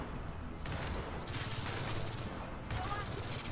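Bursts of gunfire in Gears of War 4 come in quick volleys, moderately loud and somewhat distant, in clustered rapid shots with brief gaps between.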